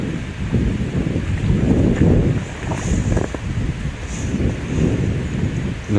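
Steady wind buffeting the microphone beside a river during feeder fishing, a loud rolling low rumble that swells and eases in gusts, with a faint hiss of moving water or air above it.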